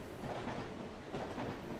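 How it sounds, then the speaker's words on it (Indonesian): A KRL commuter train speeds along in a Roblox railway game, giving a steady, rushing rumble with faint rhythmic rail clatter and no talk. "Dan ini KRL-nya ngebut juga ya."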